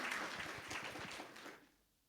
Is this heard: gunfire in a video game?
no